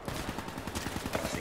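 Rapid gunfire in the Call of Duty video game, a dense burst of repeated shots running through the whole short stretch at steady volume, with game noise around it.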